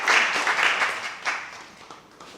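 An audience applauds a man's wife, Amia, at a ceremony: steady, fairly loud clapping from many hands that gradually thins and fades toward the end, with no talking over it.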